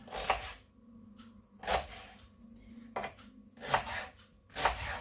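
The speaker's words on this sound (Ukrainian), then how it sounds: "І починаємо нарізати цибулю." A knife chops onion on a board in a handful of separate strokes, irregularly spaced, close and fairly crisp, with no voices.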